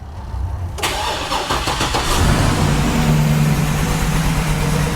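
A GMC Yukon truck engine is cranked with the key and catches, then settles into a steady idle that drones on close by without any talking.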